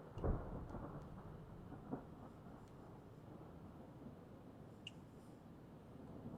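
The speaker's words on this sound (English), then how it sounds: "This booming thunder." Dark, rumbling thunder rolls low and steady at a distance, with a faint crack near the start and a few soft thuds. No voices are heard.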